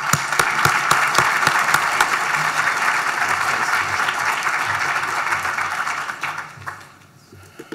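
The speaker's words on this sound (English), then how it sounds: "So let's all give Josh a round of applause and thank him for coming." Conference audience applause for a speaker, loud sustained clapping from a large crowd that holds steady before thinning out and fading near the end.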